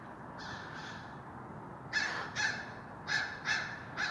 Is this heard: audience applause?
no